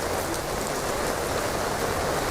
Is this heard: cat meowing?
no